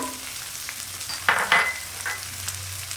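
Parshe fish curry sizzles in a pan while a spatula stirs it, two or three sharp scraping strokes standing out over the steady close frying hiss, no voices.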